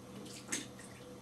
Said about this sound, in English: Oh, how's that bath water?